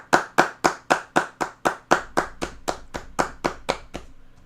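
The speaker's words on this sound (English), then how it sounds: "Where's my clapping shit at?" Canned clapping sound effect dropped into a livestream, a steady run of about fourteen crisp, evenly spaced claps from a single pair of hands, loud and close, fading slightly toward the end with no talk over it.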